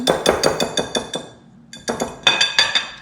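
A utensil clinks rhythmically against a bowl while crêpe batter is stirred by hand, giving a quick run of sharp taps, a brief pause, then another burst, close and fairly loud.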